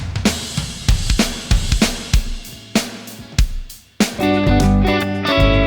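Kick, snare and tom drum samples play together in an 80s city-pop style pattern, with punchy, evenly spaced hits for four seconds, followed by a denser, sustained layered section.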